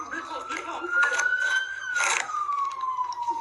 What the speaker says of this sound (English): go shut those sirens off